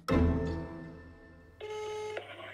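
A telephone rings out while dialing a mobile number in France, with a sharp electronic onset followed by a steady tonal buzz and then a brighter sustained ringing tone, clear and close with no talk.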